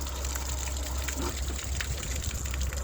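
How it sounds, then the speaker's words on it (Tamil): Water gushes steadily from a tap, a continuous splashing rush at close range with no voices. "திருவி விட்டால் தண்ணி ஊற்றும்"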